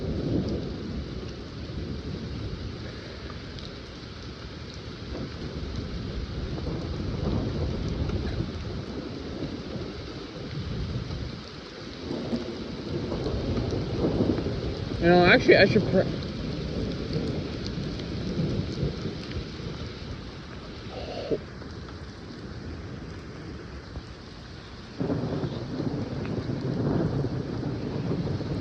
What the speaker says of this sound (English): the rain's died down a little bit again